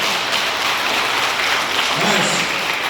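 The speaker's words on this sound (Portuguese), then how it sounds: "aplauda ao Senhor" A church congregation applauds steadily for about three seconds, with a dense, even wash of clapping from many hands filling the room and some voices mixed in.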